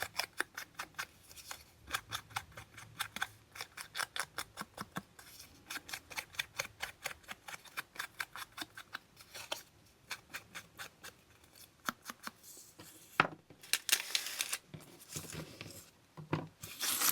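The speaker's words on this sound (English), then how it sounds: "I'm just going to fussy cut this out." Scissors fussy cutting around a shape in paper for a glassine bag journal, a long run of rapid, close snips in quick bursts with brief pauses, no talking.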